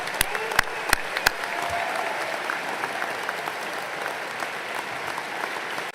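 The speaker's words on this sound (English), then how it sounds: "Let's give our alumni a round of applause." A large commencement audience applauds the alumni, a few loud close claps standing out at first before settling into a broad steady roar of clapping that continues throughout.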